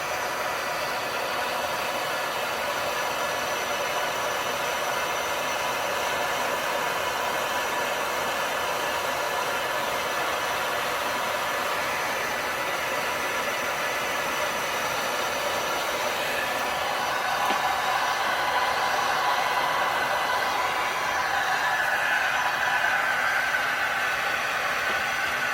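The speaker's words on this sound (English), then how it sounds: "I'm going to turn the fan up high. I'm going to leave the heat medium." Heat tool fan running on high with medium heat over an alcohol ink tumbler, giving a steady, close, broadband whooshing roar that holds for the whole stretch and grows slightly louder near the end, with no talking.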